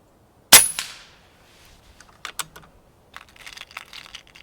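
An air rifle, the Brocock Sniper XR Magnum on its high power setting, fires one sharp crack up close, followed by a fading ring, then quieter clicks and handling noises as it is readied for the next shot.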